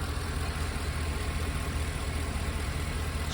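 A 2022 Ford E-350 Super Duty box truck with a 7.3-liter V engine and automatic transmission idles steadily, a continuous low rumble held at an even level throughout with no talking.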